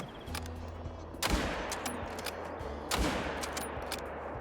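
Two loud rifle gunshots ring out in the Call of the Wild hunting video game, one about a second in and another near three seconds, each with a sharp crack and a rolling echo over a steady outdoor ambience.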